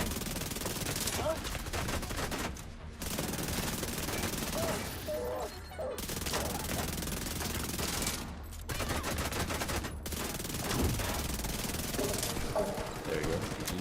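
Rapid sustained SMG fire from The Division 2, long dense automatic bursts broken by brief pauses, loud and close, with battle noise filling the gaps.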